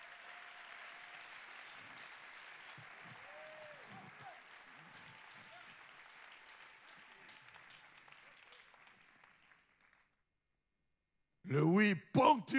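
A church congregation applauds together for about ten seconds, a soft even patter of clapping that fades out to silence before a voice briefly speaks.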